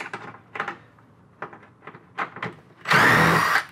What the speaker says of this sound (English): Now we're going to go ahead and remove those screws